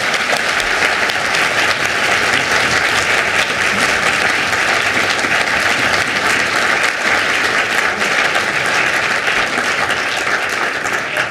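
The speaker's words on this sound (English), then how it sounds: "if they'd like to applaud, they can do that right now" A debate audience at the 2011 Wisconsin Supreme Court candidates' debate breaks into sustained applause, a dense, steady wash of many hands clapping that stays loud and even throughout, with no talk over it.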